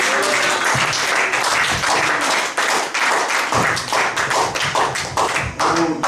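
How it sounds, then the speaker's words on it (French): A church congregation at a New Year's Eve service claps and cheers in praise, the applause dense and loud throughout, with sharp taps and thumps standing out. "Acclamons le Seigneur"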